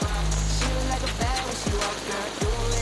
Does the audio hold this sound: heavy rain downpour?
yes